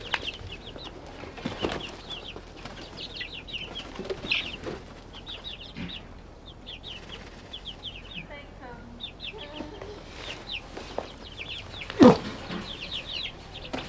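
Backyard farm chickens and a rooster cluck in repeated short bursts nearby, with wing flaps and a louder squawk late on, while a person talks over them.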